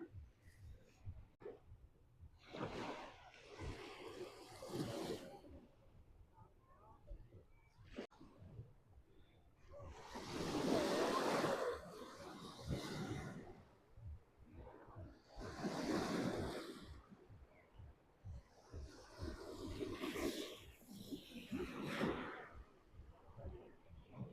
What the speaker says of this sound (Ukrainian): Подивимося трошки море, послухаємо